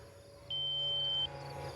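A flight timer for a Horizon Hobby Viper 90mm RC jet gives a single steady high-pitched beep lasting under a second over a low background hum.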